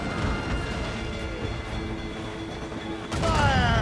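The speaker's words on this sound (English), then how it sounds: "Fire! Cannon! Fire!" Ship cannon fire in the video game Assassin's Creed Rogue: a dense, rumbling battle din that builds to a heavy burst of blasts near the end.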